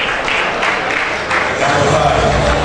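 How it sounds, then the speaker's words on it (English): Continuous audience clapping at a youth Scrabble championship awards gala, moderately loud and steady, with some crowd noise and voices mixed underneath. "A round of applause for him."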